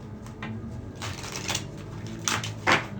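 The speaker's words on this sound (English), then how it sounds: "I don't have time to be shuffling all of this." Tarot cards shuffled by hand close up, a run of crisp riffling bursts and soft card slaps, with no voices.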